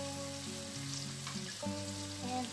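Ground pork fries in a pan for picadillo, cooking toward golden brown, with a steady, close sizzle and crackle running unbroken under faint tonal background sounds.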